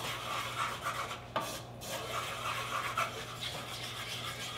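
Oil and two tablespoons of flour are stirred in a pan over high heat, producing a faint, continuous scraping and rubbing with a soft sizzle underneath.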